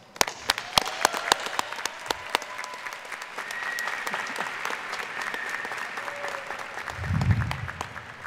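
Audience applause at the 2017 Heinz College diploma and awards ceremony, steady clapping from a large indoor crowd that swells after a few sharp opening claps and holds evenly, with a brief low thump near the end.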